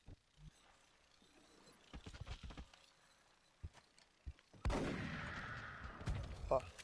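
Gunfire from the video game XCOM Enemy Within, scattered short shots and mechanical clatter followed by a loud sustained burst of fire with a ringing tail, heard alone without talk.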